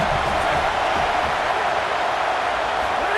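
Home crowd in EA Sports College Football 27 roars in a steady, dense wash of cheering that holds loud and unbroken throughout, like a stadium crowd at a college football game.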